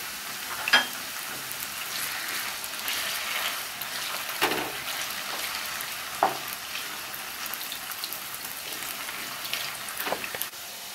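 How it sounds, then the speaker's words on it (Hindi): Cubed potatoes fry over a medium flame in a pan for aloo matar curry, giving a steady close sizzle broken by a few sharp clicks and scrapes of stirring. No one speaks. "जब तक हमारे आलू फ्राई हो रहे हैं"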